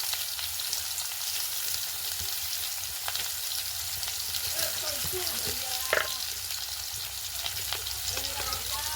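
Potato pieces frying in oil in a pan with turmeric and salt give a loud, dense, continuous sizzle, with a few stirring scrapes and clinks. No one speaks.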